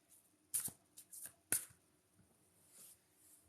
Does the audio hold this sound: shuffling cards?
yes